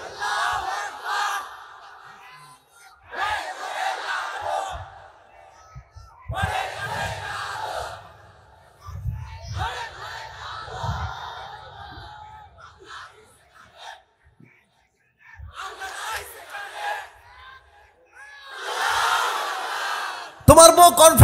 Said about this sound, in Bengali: যে কোনো একজন, জোরে সোরে দাও তাকবীর।